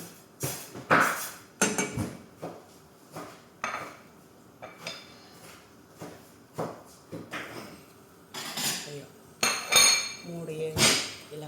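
Three cardamom pods are pounded for chai, giving a series of sharp, close, clinking knocks in irregular bursts with short pauses between them. A voice talks quietly between some of the strikes.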